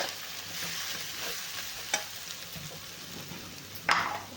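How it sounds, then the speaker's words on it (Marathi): Stuffed eggplant sizzles as it is sautéed in a green chilli masala, with a steady, close frying hiss throughout and two sharp clinks of a spoon against the pan. "वांग्याला आपण छान ह्या मसाल्यामध्ये परतून घेणार आहे"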